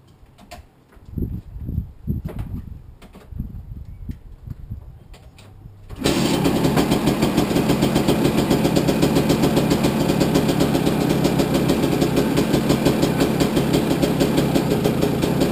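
2004 KTM 250 EXE motorcycle, freshly rebuilt top and bottom end, fires up after quieter handling noises and settles into a loud, steady, buzzing idle that continues unbroken to the end.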